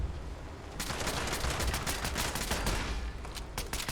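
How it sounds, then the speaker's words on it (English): Submachine gun fire in the game Fallout 76: rapid, crackling bursts of automatic shots that repeat over several seconds, loud and close, with a dense, noisy background between volleys. "She got a little submachine gun."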